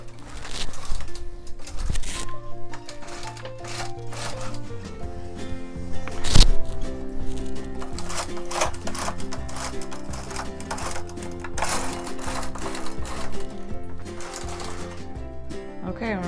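A knitting machine carriage pushed across a row while knitting a ski mask balaclava, giving a continuous close clattering and rattling of needles with irregular clicks throughout.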